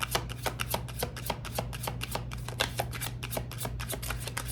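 Tarot cards being shuffled close up, a fast, regular run of crisp riffling flicks repeating for several seconds over a low steady hum.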